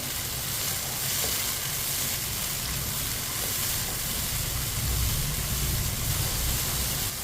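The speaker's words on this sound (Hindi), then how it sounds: "टमाटर को इसी तरह चम्मच चलाते हुए पकाना है ताकि टमाटर हमारे अच्छी तरह पक जाए" Finely chopped tomatoes fry in a pan while a spoon keeps stirring them, producing a dense, continuous close-up sizzle with a low rumbling undertone and no voices.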